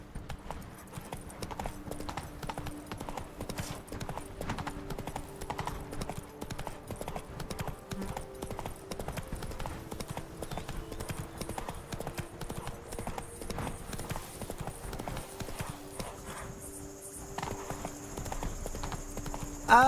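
Roach, the horse in The Witcher 3, gallops with rapid, rhythmic clip-clop hoofbeats that run steadily and close for the whole stretch, over quiet game ambience with a snort or whinny near the end.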